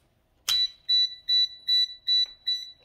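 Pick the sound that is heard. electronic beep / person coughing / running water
electronic beep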